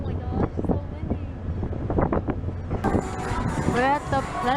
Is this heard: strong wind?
yes